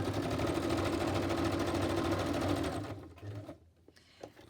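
A sewing machine stitches fabric up close with a steady, rapid mechanical whir for about three seconds, then stops, leaving quiet handling noises.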